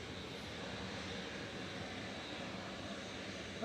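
A Qatar Airways heavy jet taxiing out at Manchester Airport makes a steady, fairly distant engine rumble and whine that holds level throughout with no clear peaks.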